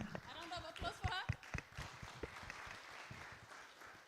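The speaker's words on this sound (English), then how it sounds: "A round of applause for her." Scattered clapping rises at a climate change event in Tanzania as an audience applauds a speaker, brief and fairly faint, with a voice talking over the start.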